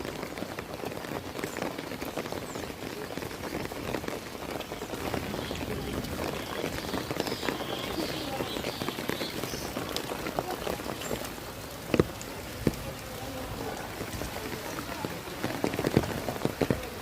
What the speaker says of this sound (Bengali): বৃষ্টি আরো জোরে আসলো